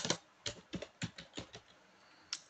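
Keystrokes on a computer keyboard while entering a git commit message: about eight or nine quiet clicks in short bursts, then a pause and one final isolated keypress, close up with no talking.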